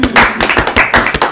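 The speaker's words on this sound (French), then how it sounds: "applaudissons pour lui" A church congregation claps together, a dense run of sharp, loud hand claps close by in quick, uneven rhythm, with no speech over it.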